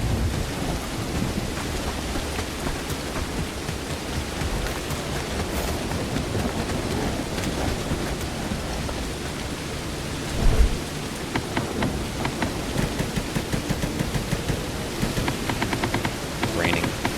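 Steady rain and rolling thunderstorm ambience in the video game Bellwright, a dense continuous wash of rainfall with deep rumbles and a sharper thunder crack partway through, loud and close.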